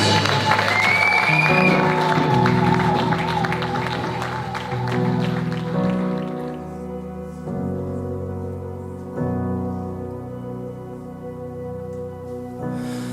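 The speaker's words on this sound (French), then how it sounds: "Acclamons pour la gloire." A church congregation applauds during a pastoral consecration service, loud sustained clapping mixed with music and voices that fades as held organ-like tones continue.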